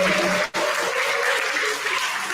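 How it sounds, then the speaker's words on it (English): Dense applause from an audience for speakers at a talk, steady and full, with a momentary dip near the start before the clapping carries on. "Come on, one more clap for us."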